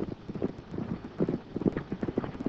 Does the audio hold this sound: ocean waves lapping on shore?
no